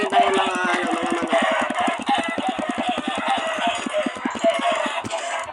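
Chickens cluck in rapid, regular pulses in Minecraft, a steady stream of close, loud clucks that carries on throughout.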